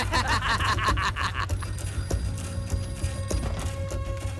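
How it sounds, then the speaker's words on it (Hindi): A phone rings in quick trilling bursts at the start, then gives way to a busier background with scattered knocks and tones. "सुब्रमण्यम तुम्हारा फोन है"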